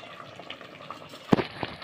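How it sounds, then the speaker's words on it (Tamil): Water boiling in a cooking pot gives soft, steady bubbling and simmering with a few sharper pops and splashes near the end, heard up close with no talking. "பாருங்கள் எப்படி கொதிக்குதுன்னு பாருங்கள்."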